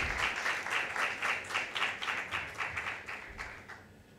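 Applause from an audience at a cultural dialogue event in honour of an arriving classical musician, a steady wash of many hands with soft rhythmic swells, fading toward the end.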